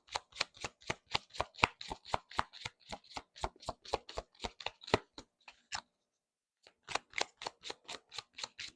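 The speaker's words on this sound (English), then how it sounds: "Last shuffles." Tarot cards being shuffled by hand: a rapid, rhythmic train of sharp riffling clicks, close and crisp, breaking off into a short silence before resuming.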